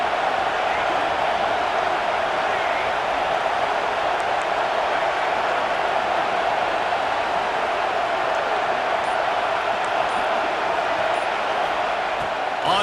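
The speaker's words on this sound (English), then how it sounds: "this crowd trying to help keep them there" Broad, steady roar of a stadium crowd in EA Sports College Football 26, a dense continuous wash of cheering noise sustained at even loudness throughout, with no individual voices standing out.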